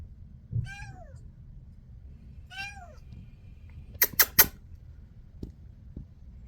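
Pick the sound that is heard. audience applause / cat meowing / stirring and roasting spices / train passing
cat meowing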